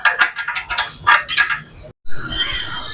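Bolts on an Amazon Basics 3-in-1 gym bench tightened during assembly, with a rapid series of close metallic ratchet clicks, a brief silence, then a steadier grinding mechanical whir.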